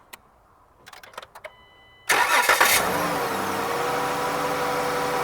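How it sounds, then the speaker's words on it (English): A car engine is started using an AP6 jump starter with no help from the battery: a few faint clicks, then the starter cranks briefly and the engine catches and settles into a loud steady idle close by. "The AP6 successfully started the vehicle on its own with no assistance from the battery."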